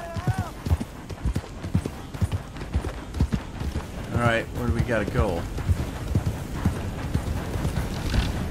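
Horse hooves clip-clopping in Red Dead Redemption 2, a steady walking rhythm close by, with a voice talking over part of it.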